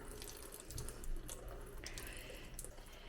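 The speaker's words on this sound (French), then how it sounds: "Parce que il ne boit que de l'eau qui vient de cette fontaine." Water runs steadily from a faucet into a sink so a cat can drink, a continuous splashing stream with small shifts in flow, close and alone with no talking.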